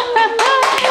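A brief burst of audience clapping at a Korean interview event about a pilgrimage ministry in Japan, lasting under a second with a tonal voice-like sound running beneath it.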